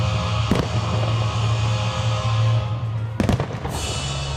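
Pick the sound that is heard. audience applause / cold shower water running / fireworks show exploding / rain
fireworks show exploding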